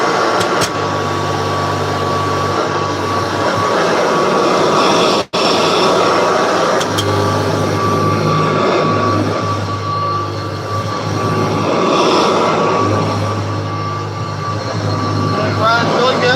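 A vintage Electrolux canister vacuum cleaner from 1984, with no attachments fitted, runs in a steady loud drone with a constant hum, cutting out for an instant partway through before resuming.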